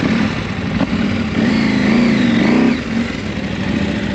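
Heavy motorcycle engine revving hard on a steep dirt climb over rocky ledges, a loud close drone whose pitch rises and wavers for several seconds before easing off, with no talk over it.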